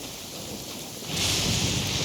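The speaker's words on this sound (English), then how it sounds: "Taking a stroll in the middle of a downpour certainly rouses the spirit" Rain and thunder in Genshin Impact, a steady downpour hiss that swells into a louder, rumbling roll of storm noise partway through, with no voices.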